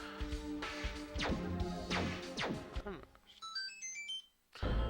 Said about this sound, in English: that's my phone going off for anybody wondering